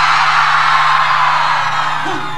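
A concert crowd at a live banda quebradita show yells and whoops loudly and continuously, a dense roar of many voices filling the whole moment without pause.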